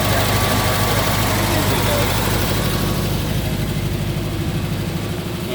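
A 1969 Porsche 912 with a 1700 cc engine idles close by, a loud, steady low rumble that eases slightly toward the end.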